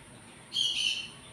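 One bird gives a short, bright chirp of about half a second. It is moderately loud against a quiet background, with nothing before or after it.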